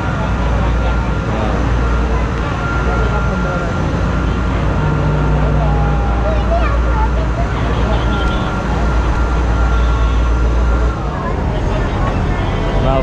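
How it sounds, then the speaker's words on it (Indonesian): A KRDE diesel railcar train pulls into a station at the Jogja Spoor Festival 2023, with a loud, close, continuous engine rumble and drone that holds steady throughout, and people talking nearby. "Keretanya baru datang, Pak."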